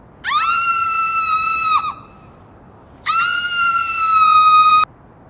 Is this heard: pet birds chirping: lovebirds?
no